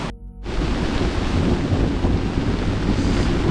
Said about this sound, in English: Still a little bit windy